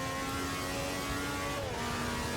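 A Honda V12 Formula 1 engine from 1967 screams at high revs in Assetto Corsa at Zandvoort, a steady loud whine with a brief pitch dip as it shifts and climbs again.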